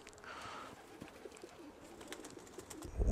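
Pigeons coo softly and briefly in a quiet loft, a faint low burble with a few light rustles and clicks nearby.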